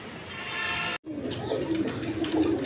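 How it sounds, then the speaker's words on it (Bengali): A pair of Rajgolla pigeons, one female and one male, coo softly nearby in low, repeated calls, with a short break partway through. "রাজগোল্লা কবুতর দেখেন, সামনে একটা মাদি, পিছনে একটা নর।"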